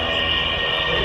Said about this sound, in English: I'm going to demonstrate a roll across the top of the loop, just to show the versatility of the airplane.